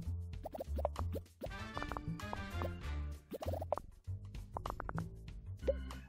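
In Game Dev Tycoon, bubbles keep popping in short clusters of soft plops and drips over faint tonal game music, with no voices present.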